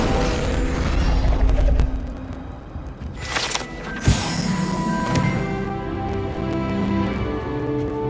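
Incendio fire spell cast in Hogwarts Legacy: a sudden crashing burst of flame with a bright hiss and a sharp impact, followed by ringing tonal game sounds that fade out.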